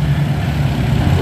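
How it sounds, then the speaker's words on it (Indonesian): A Fuso trailer truck engine drones loud and steady with a low, heavy rumble, nearby on the road, with no voices. "Ada tuh trailer membalap bosku. Fuso."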